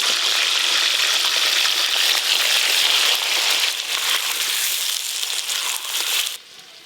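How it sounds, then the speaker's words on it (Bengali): Luchi fry in hot oil with a loud, dense sizzle and crackle close by, holding steady, then thinning and stopping abruptly near the end. "এবারে যা আছে একবারেই ভাজা হয়ে যাবে।"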